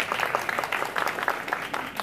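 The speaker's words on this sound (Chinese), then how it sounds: "掌声欢迎。" Scattered, moderately quiet clapping from a small audience at a mobile game press conference, uneven bursts of hand claps throughout.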